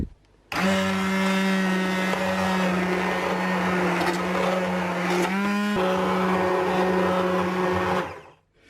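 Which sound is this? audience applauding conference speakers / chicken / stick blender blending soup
stick blender blending soup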